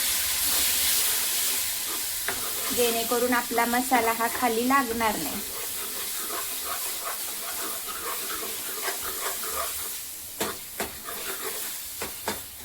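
Masala for mutton rassa sizzles and hisses in a hot oiled pan after a splash of stock water is added, bubbling loudly at first and then settling to a softer fry under a voice speaking Marathi.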